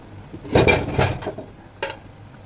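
A lid set onto a cooking pot while a beef roast cooks over medium heat in a home kitchen, giving two close metallic clanks followed by a lighter clink a moment later, with no talking.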